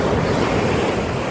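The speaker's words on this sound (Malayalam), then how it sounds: "ഭയങ്കര ചളി വെള്ളം, കടലൊന്നും മറിഞ്ഞിട്ടുണ്ടല്ലോ" Rough, muddy sea surf crashes and rushes continuously on a beach, loud and close, mixed with heavy wind buffeting the microphone and no voices.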